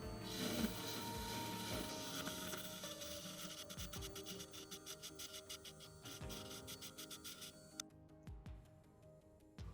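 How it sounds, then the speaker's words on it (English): A TBK grinding machine grinds through a phone logic board toward the flex solder pads with a close, steady rasping hum. Fine rapid ratchet-like ticking runs through the middle before the sound thins out near the end. "Grinding through that should get us down to the solder pads on the flex."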